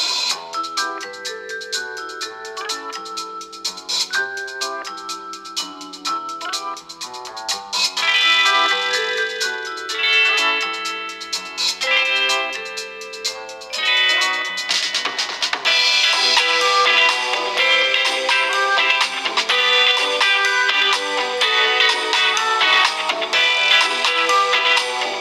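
Music plays through the single mono speaker of a POCO X5 5G phone, a continuous tonal melody growing fuller and louder partway through, with no talking.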